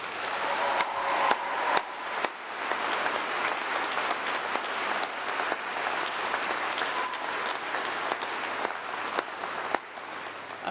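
A large crowd at a graduation congregation applauding in a long, continuous wash of clapping, with a few sharper individual claps standing out near the front.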